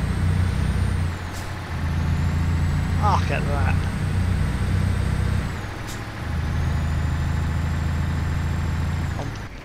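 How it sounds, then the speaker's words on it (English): Scania truck in Euro Truck Simulator 2 rumbling steadily at low pitch, with sharp air brake hisses around one, six and nine and a half seconds, while someone talks briefly over the engine. "I do like the sound of this truck."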